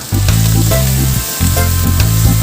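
Pressure-cooked beef tendon being sautéed in a pan for adobo: a loud, steady sizzle runs throughout, with a low droning hum underneath and a brief dip partway through.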